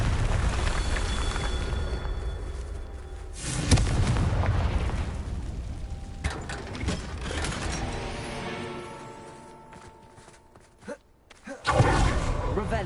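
Confringo spells in a Hogwarts video game set off a string of booming explosions with rumbling bursts and fading tails, close and fairly loud, with speech now and then.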